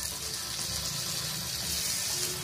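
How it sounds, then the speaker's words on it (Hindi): Yogurt going into a pan of sizzling, well-fried tomato masala over a low flame, a steady loud hiss and crackle of frying that continues without a break. "अब हम गैस का फ्लेम लो करेंगे और इसमें दही डालेंगे"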